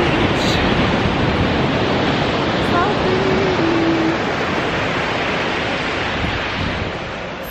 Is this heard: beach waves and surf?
yes